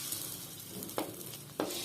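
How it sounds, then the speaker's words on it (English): An egg for a simple omelette fries softly in a pan on a stove. A spatula spreads it with two brief scraping strokes over the quiet sizzle. "Spread out the egg with the spatula."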